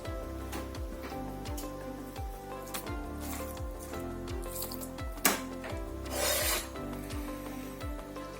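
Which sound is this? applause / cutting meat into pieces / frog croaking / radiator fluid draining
cutting meat into pieces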